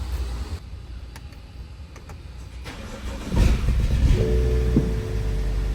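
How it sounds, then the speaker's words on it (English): A BMW N55 engine, freshly serviced with its oil pump primed, is cranked and fires up partway through, then settles into a steady, close idle hum with no talking. "All right, now we can go back in the car and start it up."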